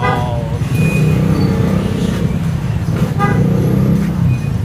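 Busy road traffic on a rainy day, with a steady rumble of engines and several short car horn toots cutting through, heard close by in a continuous jam.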